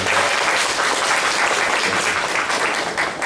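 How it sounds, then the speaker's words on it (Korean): Sustained applause from a church congregation during a Sunday service welcoming members, a dense steady clapping that stays loud throughout. "환영의 박수 부탁드리겠습니다."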